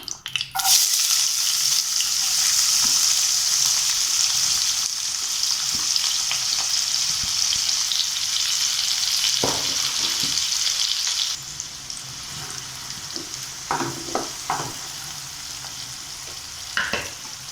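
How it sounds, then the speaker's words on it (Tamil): Onions dropped into hot oil in a pan hiss with a loud, steady sizzle, interrupted by a few stirring scrapes and clinks; the frying settles slightly quieter partway through. "எண்ணெய் காஞ்சிடுச்சு. இதில் வெங்காயம் போட்டுக்கலாம்."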